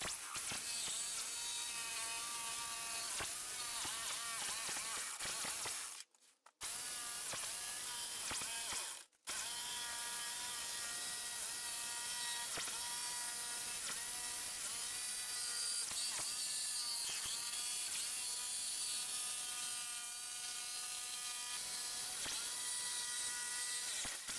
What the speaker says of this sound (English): now it's just jigsaw